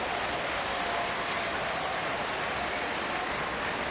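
Big Sunday-afternoon crowd at a near-sellout Cincinnati Reds home game against Pittsburgh, a steady broad roar of cheering and applause filling the ballpark without pause.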